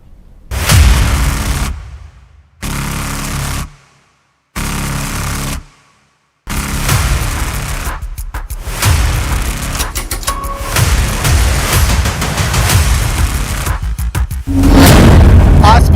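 Blast at a chemical factory unit in Thane, near Mumbai, caused by a boiler explosion: heavy booming bursts broken by abrupt silences, then sustained loud rumbling and crackling with a final heavy surge.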